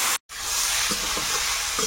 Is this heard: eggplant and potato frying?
yes